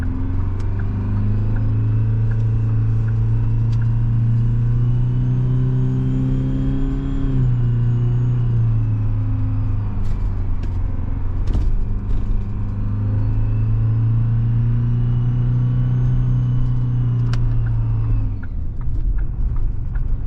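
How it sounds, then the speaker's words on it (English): A turbocharged Detroit 4-53T diesel engine with a Garrett turbo drones loudly under load, its low rumble rising in pitch, dropping briefly, then climbing again, with a faint high turbo whine above it. "So we got the blower when you're just cruising, and now the turbo under load."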